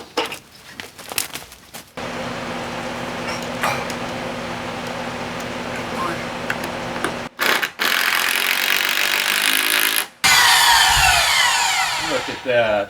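A power saw cuts lumber for a deck repair and extension outdoors, running loud and steady for several seconds, then in two more short bursts with brief stops between them.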